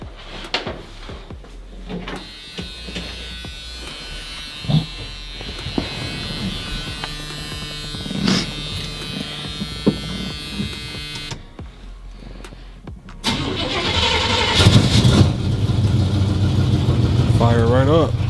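A 1978 Chevy El Camino cranks and fires near the end, its engine catching into a loud, rough idle after a stretch of knocks, handling noises and talking.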